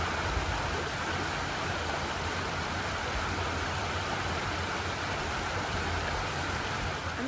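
River flowing at St Nectan's Glen near Tintagel, a steady, even rush of water heard close by, continuous and unvarying with no voices.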